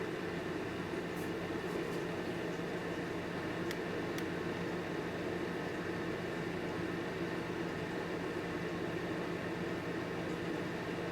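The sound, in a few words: Lasko ceramic heater running on highest setting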